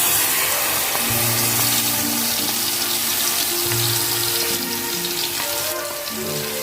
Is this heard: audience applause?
no